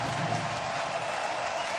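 Stadium crowd at Dowdy-Ficklin Stadium during an NCAA college football game between North Carolina A&T and East Carolina, a steady broad roar of cheering and noise from a large crowd, continuous and fairly loud throughout.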